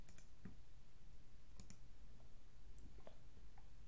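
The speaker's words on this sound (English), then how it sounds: "So here I am double clicking," A computer mouse gives faint, crisp clicks, including quick close pairs like double-clicks, spaced irregularly over a quiet room background with no voice.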